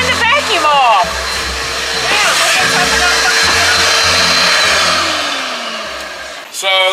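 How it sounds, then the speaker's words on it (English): A loud, steady motor drone runs throughout, like a vacuum cleaner, with voices talking over it before it winds down near the end. "Turn the vacuum off."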